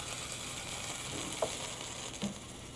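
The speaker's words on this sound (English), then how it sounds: "you see the LNG is boiling off because the temperature of the water was a lot warmer" Liquefied natural gas poured from a beaker onto warmer water, boiling off with a steady, faint fizzing hiss like a gentle sizzle, broken by a couple of small pops.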